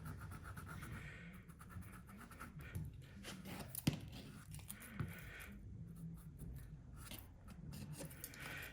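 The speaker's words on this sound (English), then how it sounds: "I can go in and I can just scrub out" A stiff brush scrubs paint off a mixed media figure painting, giving a very faint, continuous dry scratching and rubbing with a few small knocks. No one speaks.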